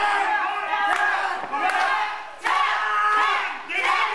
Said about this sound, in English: Crowd's yelling tap